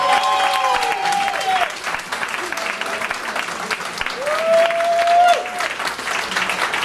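An audience gives a sustained round of applause for a band at a meetup, steady crowd clapping over about seven seconds with some voices and brief tonal calls mixed in.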